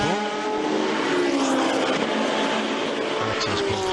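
Ginetta GT race cars roar past at the Zandvoort circuit, a dense, continuous engine drone with shifting pitch as cars accelerate by, loud and sustained throughout.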